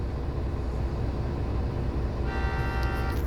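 A steady truck horn sounds over a rumbling engine at an oil field worksite, starting partway through and holding for about a second, loud and close.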